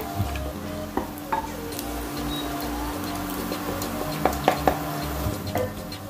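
Onions frying in a pan for mutton korma sizzle steadily up close, while a spoon stirs and scrapes, adding scattered clicks and light knocks over the continuous crackle.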